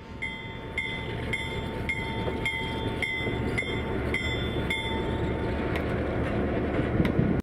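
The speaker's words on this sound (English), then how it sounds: "Slowly going down the track" A real train rolls steadily along the track, a continuous loud rumble of wheels on rails with a regular run of sharp metallic clicks and faint squeals over several seconds.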